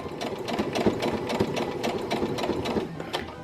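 A sewing machine stitches lace onto bra fabric in a quick, steady run of needle strokes, close and fairly loud, with a brief pause near the end.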